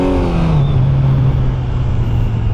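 A 2025 Kawasaki Z900 SE inline-four motorcycle engine holds a steady, smooth drone close to the microphone, its pitch easing slightly downward across the stretch with no talk over it.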